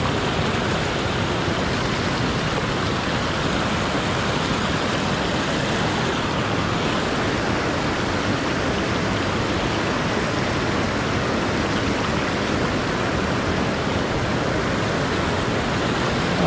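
A river rushes in an unbroken, dense roar of flowing water, loud and close, with no pauses or voices.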